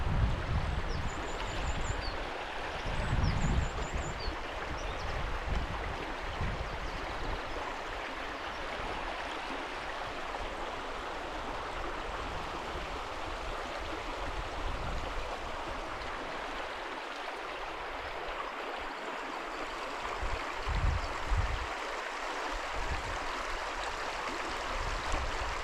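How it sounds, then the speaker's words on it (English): Water pours steadily at Careyburn waterfall as a dense, broadband rush that holds level throughout, with low rumbling gusts of wind against the microphone and no voices. "Just point my camera to the water and let you listen to it"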